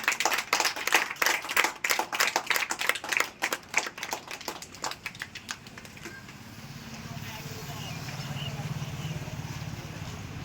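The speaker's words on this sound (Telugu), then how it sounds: "క్లాప్స్ పెట్టండి" A small gathering of people claps their hands in a lively burst of applause that fades out over several seconds, followed by low room murmur and background noise.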